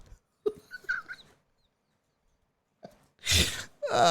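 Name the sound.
person imitating a whale call that sounds like a pigeon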